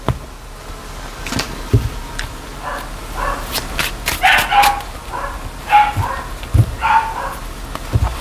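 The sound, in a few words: dogs barking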